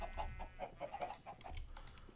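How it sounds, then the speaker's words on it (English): Chickens in Minecraft's Agrarian Skies 2 modpack cluck softly in a quick, uneven run of short repeated calls, faint and nearby, with no talk. "These chickens don't want to hurt me."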